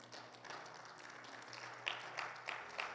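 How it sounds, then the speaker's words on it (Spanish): A church congregation gives a faint, scattered round of applause to the Lord during a Bible class, light claps with a few sharper slaps, distant and quiet in the room. "¿Cuánto le dan un fuerte aplauso al Señor, por favor?"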